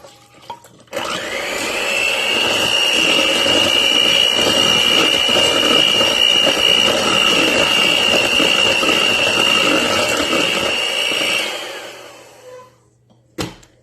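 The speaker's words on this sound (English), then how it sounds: "I'm going to add 1 cup of cold milk and then mix it with the mixer" An electric hand mixer whirs steadily as it beats instant vanilla pudding mix into cold milk, starting abruptly, running loud and constant for about ten seconds, then stopping with a few faint clicks.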